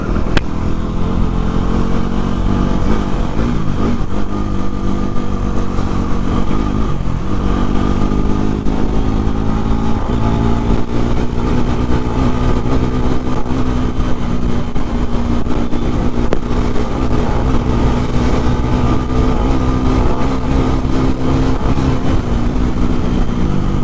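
A Yamaha R15 V3 motorcycle running low on petrol out on a road ride, its engine droning loudly and continuously with uneven surges and dips in pitch as it jerks and sputters.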